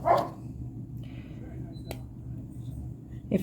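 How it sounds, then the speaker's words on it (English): Small dogs playing around indoors, a quiet yip at the start and another at the end with faint scuffling between, heard at a distance. "My doggies are playing around"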